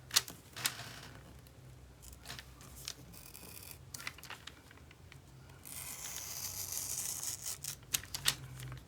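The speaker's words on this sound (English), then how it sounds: "I'm just going to cut that out because I don't need the whole page." Scissors cut out a magazine page in a series of close, crisp snips and paper rustles, with a brief burst of papery hiss partway through and no talking.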